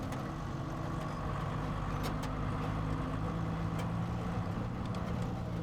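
Expedition truck cruises along the road with a steady low engine drone and rumbling road noise, constant and close, with no voices over it.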